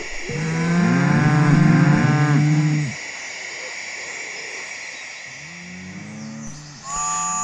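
Restless cattle in railway cattle vans give long, loud moos, two or three overlapping calls at once, then fall quiet before another moo starts near the end.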